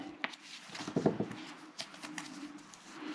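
Crinkly packing paper rustles and crackles close up while a DJI Pocket 3 camera is unboxed by hand, in short bursts with brief pauses and no talking.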